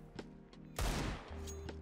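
Gunfire in the video game CS:GO, a single loud burst of rapid shots landing mid-clip amid faint game sounds, with a low hum continuing afterward.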